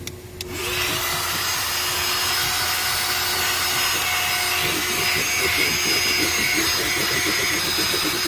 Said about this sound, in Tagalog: Gamit ang aking cute na vacuum.